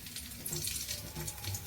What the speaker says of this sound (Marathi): तेल तापलेलं आहे. यामध्ये मी फक्त हिरवी मिरची घालणार आहे थोडी